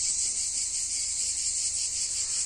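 Cicadas buzz in a loud, unbroken, high-pitched drone during a summer heatwave, a steady chorus with no talking.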